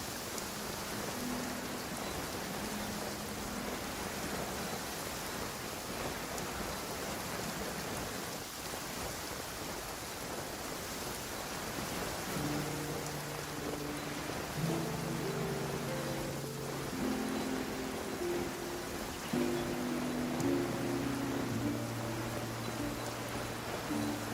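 Steady rainfall in a video game, a soft even hiss of drops with no voices, joined midway by layered sustained musical tones that rise over the rain and continue to the end.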